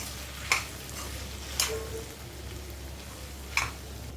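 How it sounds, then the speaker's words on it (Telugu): A few sharp scraping clinks of a spoon against a pan while eggplant and drumstick curry is stirred, spaced out over a soft background hiss. "ఒకసారి కలుపుకుందాం"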